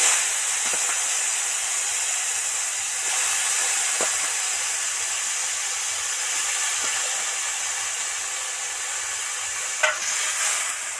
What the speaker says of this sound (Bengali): এবার কড়ার মধ্যে সোয়াবিনটা জল থেকে ছেঁকে ছেঁকে উঠিয়ে দিচ্ছি